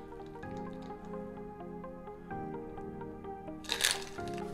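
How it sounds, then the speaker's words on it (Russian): A Sex on the Beach cocktail is poured into the serving glass in one brief, splashy pour. It is quiet and set against soft background music. "И переливаем коктейль в посуду подачи."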